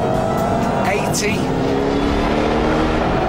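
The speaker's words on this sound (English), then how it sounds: "So let's see what the engine's like. 2nd gear, there's 60, 80," A supercharged Ford Shelby GT500 engine pulls hard through the gears, a loud, continuous close-up roar with a steady mechanical drone throughout.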